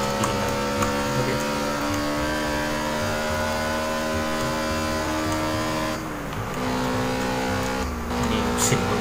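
A Honda car engine in Test Drive Unlimited Platinum roars continuously at high revs with a loud, rising drone, briefly dipping as gears shift before surging again.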